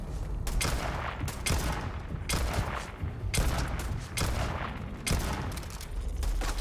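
Bursts of gunfire in a Starfield firefight, loud repeated volleys every second or so with dense crackling between shots, nearby and dominating the scene.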